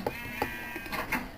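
Sheep in the video game Minecraft give several short, close bleats in quick succession, with faint clicking in the background.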